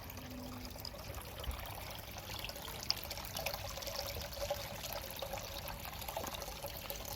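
Small garden water feature at a garden centre, water trickling and pouring continuously at a low, steady level nearby, with no talk.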